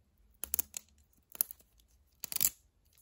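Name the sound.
tearing open the zipper of a Mini Brands toy package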